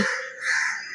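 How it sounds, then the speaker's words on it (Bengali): A crow caws once at dawn outside, a single drawn-out nasal call lasting about a second, moderately loud against a quiet background. "কাক ডাকছে"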